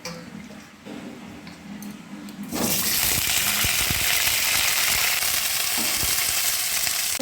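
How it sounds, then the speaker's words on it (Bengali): Potatoes drop into hot oil and burst into a loud, steady sizzle that continues for several seconds, with faint clinks of stirring, after a quieter lead-in. "আলুটা ভেজে নেব।"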